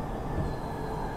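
A subway train bound for Ashmont rolls along with a steady, loud rumble of wheels on track, heard continuously from inside the car with no talk.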